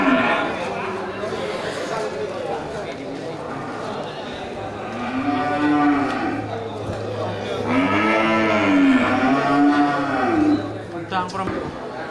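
Aceh cattle moo at a livestock market, several drawn-out, loud lowing calls rising and falling one after another, with people chattering nearby in the background.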